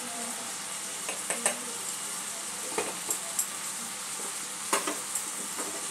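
Onion stalks and ground spices for a katla fish curry sizzling and frying in a pan while being stirred, with a steady hiss broken by scattered clinks and scrapes of the spoon against the pan.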